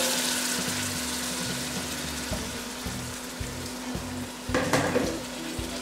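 Kilombero rice frying in a well-oiled pan, a strong continuous sizzle heard up close, with brief scrapes and clatters of stirring near the end.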